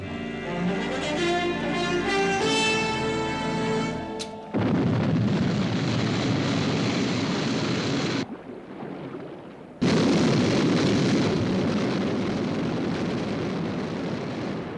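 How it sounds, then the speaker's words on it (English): Sky 1, the interceptor aircraft from the UFO TV series, lifts off with a loud, sustained roaring blast; after a brief dip in level around the middle, the powerful rushing thrust surges back and holds strong to the end. "Stand by for liftoff"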